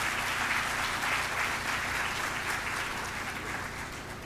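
A crowd at a celebration event applauds a reaccreditation team with steady, dense clapping that holds at an even level for several seconds before easing slightly at the end.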